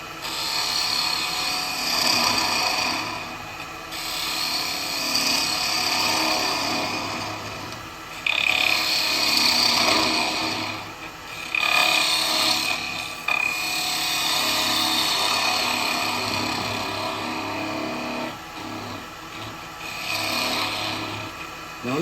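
A spindle gouge cuts into a spinning burr wood blank on a lathe, making repeated rising cutting bursts over a constant motor hum that runs close and loud throughout.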